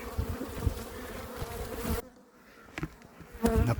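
Honeybees buzz loudly and continuously close by at a hive fitted with pollen traps, the drone dropping away briefly midway before a few louder passes near the end.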